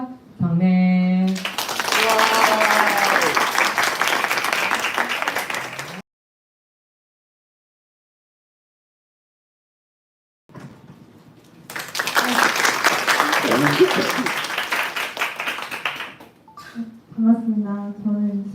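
Students at a high school anniversary event applaud in two long bursts of broadband clapping, separated by several seconds of silence, with an amplified voice speaking briefly before and after.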